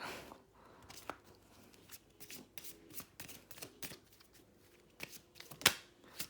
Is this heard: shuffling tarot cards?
yes